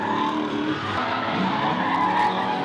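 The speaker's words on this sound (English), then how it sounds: "We don't want straightens or spin outs, we want angle all the time" Drift cars at a drift competition skid sideways with long, shrill tire squeals over roaring engines, the screeching continuous and loud throughout.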